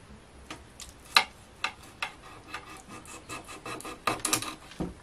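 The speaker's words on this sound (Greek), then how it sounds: "βάζουμε το μαχαίρι μας λοξά και κόβουμε." A kitchen knife held at an angle slices through marinated fish, giving a string of short rasping cuts and scrapes, close and fairly quiet, with a sharper crunch near the middle and more cuts toward the end.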